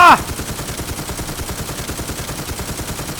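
An M134 minigun firing continuously in the video game Infestation, a rapid, even stream of shots at a steady rhythm, loud and close, running unbroken after a brief opening tone.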